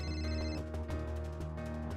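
A mobile phone rings alone, a steady electronic ringtone with bright tonal pulses repeating over a couple of seconds.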